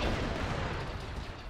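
Rumbling blasts of gunfire aimed at the rear armor of an AT walker in Arma 3's Clone Wars setting, a loud dense roar that fades slightly over its short length.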